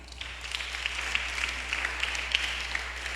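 Church congregation applauding during a sermon, a thin, steady patter of claps that stays fairly faint and distant throughout, with no voices over it.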